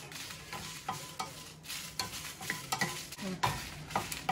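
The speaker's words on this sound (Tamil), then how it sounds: "சட்டி லைட்டான தீயில் மிளகாயை போட்டுக்கிறேன்" Red chillies dry roasting in an empty pan over low heat, giving a soft, faint crackle with light scraping and stirring strokes at irregular intervals; no one speaks.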